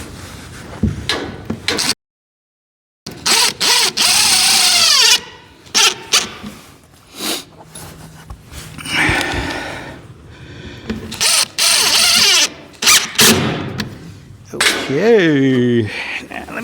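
Cordless power drill driving screws to mount a Demilare high bay LED light in a horse barn, several short bursts with pauses between them, close by, with brief talk in between.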